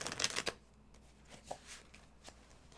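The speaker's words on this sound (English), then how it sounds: "shuffle the cards" Tarot cards being shuffled by hand, a quick riffling burst at the start followed by a few softer card taps, close and quiet with no talk.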